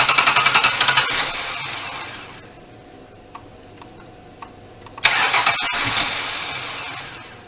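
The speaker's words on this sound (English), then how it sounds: "And of course the car's not going to want to start." A car engine cranks and starts during routine automotive maintenance, with an exhaust hose attached; a loud churning burst gives way to quiet ticking, then the engine catches and settles into a steady close idle.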